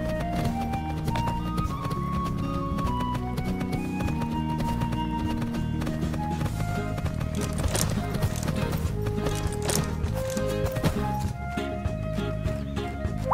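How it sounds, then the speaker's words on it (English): A herd of horses in a video game gallops away, steady clip-clop hoofbeats running continuously over a music bed, with an occasional neigh rising through. "We found the herd, but the horses ran away before we could take a photo"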